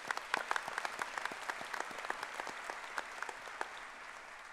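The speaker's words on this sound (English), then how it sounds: "Please give her a round of applause." Applause fills a college spring graduation ceremony hall, many distinct claps in steady rhythm, moderately distant and fairly quiet, with no talking over it.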